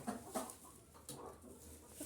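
Faint chickens clucking in the distance in a farmyard where a rooster chases a turkey, a few soft calls and scratchy rustles over a quiet outdoor background.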